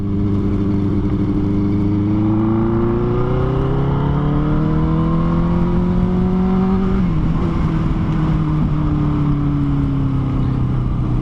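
A Benelli TNT 600 motorcycle accelerates toward top speed with a loud, close engine whine that climbs steadily in pitch, drops briefly at a gear change, then keeps droning over constant wind roar.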